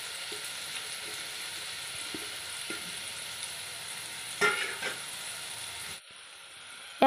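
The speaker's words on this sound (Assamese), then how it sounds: "এয়া নৰসিংহ পাত ছেকি ছেকি দি দিছোঁ।" Curry leaves and chopped aloe vera fry in oil for homemade hair oil, a steady soft sizzle with occasional faint stirring clicks before it cuts off near the end.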